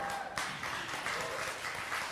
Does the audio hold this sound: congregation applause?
yes